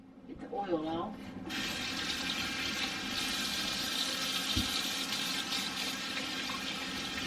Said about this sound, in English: I'll wash my hands, get the oil off.